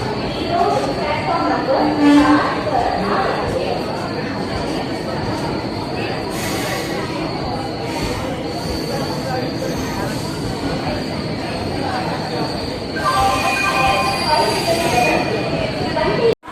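A train hauled by an Arakkonam-based WAP-4 electric locomotive rolls into a platform, with a steady rumble of wheels on rails and a drawn-out high metallic wheel squeal. Crowd chatter can be heard in the background.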